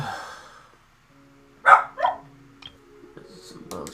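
A puppy barks in two sharp yips close together, then gives a few fainter yelps, with a low steady hum underneath and quiet spells on either side.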